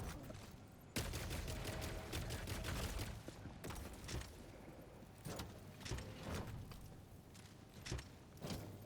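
Gunshots in Helldivers 2 ring out as a sharp opening crack followed by repeated rapid bursts of rifle fire, moderately close and quiet overall, mixed with footsteps and mechanical clatter.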